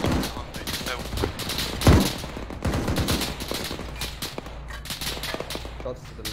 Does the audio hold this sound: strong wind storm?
no